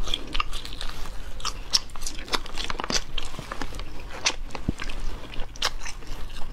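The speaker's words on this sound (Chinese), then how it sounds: "吃个大辣片，童年的味道" Crunchy spicy latiao strips, a Chinese snack, bitten and chewed close to the mic with repeated crisp crackling bites in an irregular rhythm and no talking.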